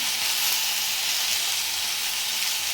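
Okra sizzles and fries in a pan with a steady, even hiss that carries on unbroken and close up, with no voices over it.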